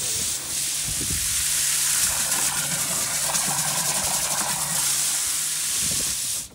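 Boat- or caravan-style water pump at an allotment, running steadily and delivering tap-pressure water, a loud close whirring hiss with a faint ticking pulse, continuous and alone until it stops abruptly at the end.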